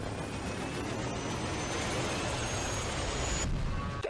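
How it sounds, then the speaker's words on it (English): A PS4 Pro console powering on gives a loud, continuous roaring whoosh like a straining fan or jet engine, steady and dense throughout before cutting off abruptly near the end. "the PS4 Pro sounds like a wounded animal in a crashing helicopter when it turns on."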